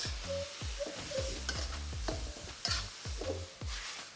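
Hand-minced pork with spring onion stir-fried in oyster sauce, tossed in a pan with a continuous close sizzle and repeated rhythmic scraping and clanking strokes about every half second, no voices.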